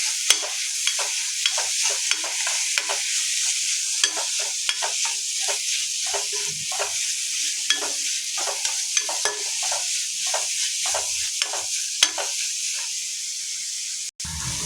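Onions being stirred as they fry toward brown in a pan, a steady bright sizzle under frequent rhythmic scrapes of the spoon, close and fairly loud, with no talking.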